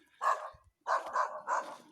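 A city dog close by barks three times, a short single bark and then a quick double bark, with no talk over it.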